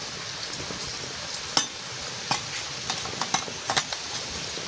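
Water heats and simmers softly under a bowl of singhi fish being steamed, with a gentle sizzle and scattered light clinks of utensil on metal, quiet and close.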